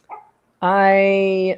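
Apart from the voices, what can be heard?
small dog barking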